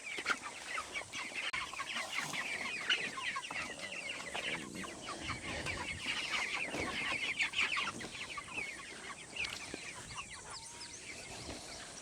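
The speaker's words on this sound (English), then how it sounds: "I don't think we have as many roosters as we do hens this time." A flock of hens and roosters clucking and murmuring together, busy and continuous, fairly close, with no talking.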